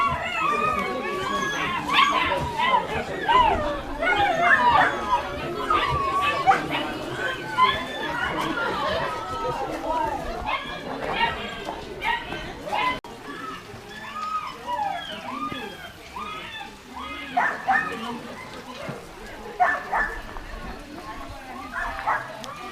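A crowd of sled dogs at a sled dog farm bark, yip and howl in a loud, overlapping chorus that never lets up, with people talking underneath.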